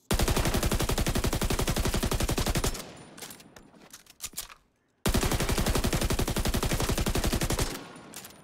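Rapid automatic weapon fire in The Division 2, a long sustained burst of evenly spaced close shots, then a stretch of quieter scattered sounds and a few sharper cracks, followed by a second long burst that fades near the end.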